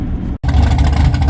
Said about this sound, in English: We just got the engine fired up. Thought I'd let you hear it outside.